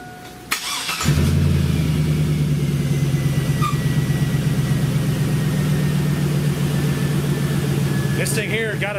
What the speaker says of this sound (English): You know, it's got a modified exhaust. It's pretty loud